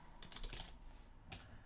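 Keystrokes on a computer keyboard while typing Python during an Arch Linux install, a quick burst of several clicks followed by a pause and one more short cluster, faint and close with no talking.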